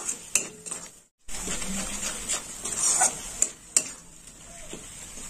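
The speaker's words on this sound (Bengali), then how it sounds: "মশলাটা এইভাবে কষে নিতে হবে।" Spice masala with cashew paste being stirred and fried in a pan for dhania murg, a spoon scraping and clinking against the pan in repeated strokes over a soft sizzle, close and fairly quiet, with one brief pause.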